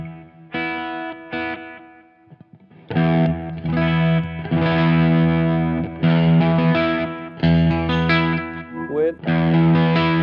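Electric guitar through an overdrive pedal, with a crunchy, slightly Marshall-like tone, plays chords and sustained notes, loud and close, with a brief pause near the start.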